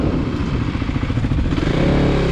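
A Kawasaki KLX300 dirt bike engine revs loudly and close by while trail riding, its steady buzzing drone rising in pitch toward the end, with no voices over it.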